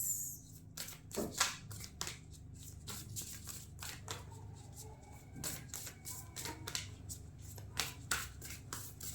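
Tarot cards are shuffled by hand in quick, uneven bursts of crisp riffling and flapping, close and fairly soft, with small pauses between runs and a faint hum underneath.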